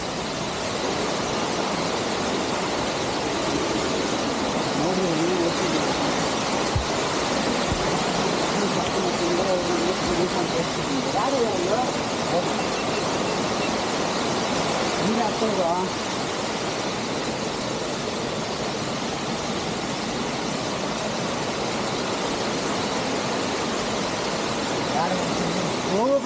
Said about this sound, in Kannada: ಹೋಗು ಬ್ರೋ, ಫಾಲ್ಸ್ ಸಿಕ್ತು